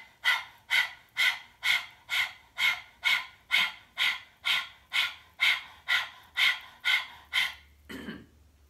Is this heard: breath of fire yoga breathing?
yes